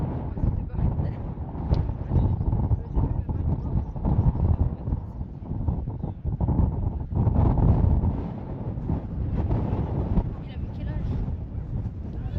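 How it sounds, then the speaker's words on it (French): Strong wind buffets the microphone on the summit of La Rhune in the Basque Country, gusting in uneven rumbling waves throughout while people talk beneath it. "Je sais pas si vous m'entendez bien avec le vent"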